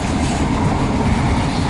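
Train cars rolling along the rails with the windows open and wind coming in, a loud steady rumbling roar with a faint rhythmic clatter, continuous throughout with no voices.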